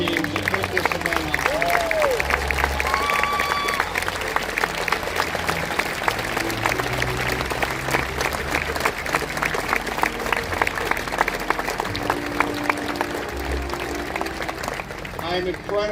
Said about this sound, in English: I'd like to start with asking you to join me in a round of applause for Gary and Mary and all the performers